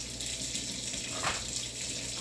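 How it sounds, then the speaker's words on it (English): Hot water runs from a tap into a plugged sink as it fills to soak off a metallic paper label; a steady broadband rush of flowing water continues throughout at moderate level, with no talking. "let it fill with hot water so that the glue softens up a little bit"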